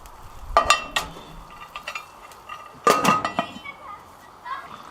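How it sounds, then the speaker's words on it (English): Spoon stirring pumpkin soup in a pot, scraping and knocking against the sides in two short bursts with quieter clinks between, close and moderately loud with no talk. "give that a little bit of a stir"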